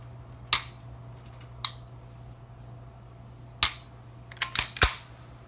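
Double-action trigger pulled on a SIG P-series pistol fitted with an adjustable trigger, giving a few sharp close mechanical snaps, one single, then a quick cluster of clicks near the end, with near silence between.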